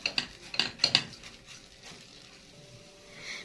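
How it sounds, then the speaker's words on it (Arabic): Washed rice stirred in ghee and oil in a pot, with a few sharp metallic scrapes and clinks of a spoon against the pot early on, then a soft low sizzle. "وابتدي اشوح الرز ده شوية في السمنة اللي انا حطاها عشان يفلفل معايا"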